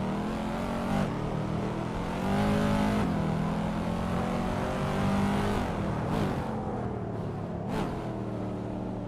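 A 2012 Noble M600 race car driving in a race, its engine a steady loud drone with rising and falling revs and gear changes, close and continuous with no talk over it.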